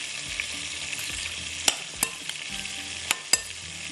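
Garlic frying in butter for steamed butter rice, a constant bright sizzle with a few sharp utensil clicks against the pan as it is stirred, close and steady, with no voices.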